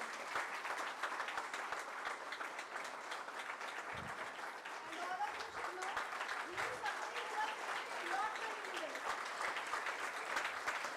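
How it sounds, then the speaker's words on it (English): Sustained applause from an induction ceremony audience at a business school, dense steady clapping filling the hall for the Director, with some murmured voices underneath. "So big round of applause."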